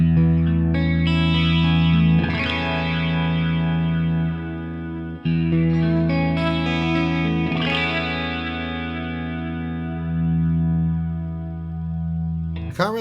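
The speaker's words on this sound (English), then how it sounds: "That is a lovely soft flanger as well." Sustained guitar chords through a Sonicake Matribox, drenched in a gentle, sweeping flanger that swirls slowly through the tone, ringing out twice and fading toward the end.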